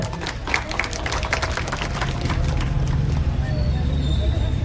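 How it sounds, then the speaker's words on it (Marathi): An audience claps at a monthly lucky-draw prize event for gold and silver prizes, a dense burst of applause that settles into steadier clapping while a voice calls out over it. "टाळ्या तर झाल्याच पाहिजे एकदा"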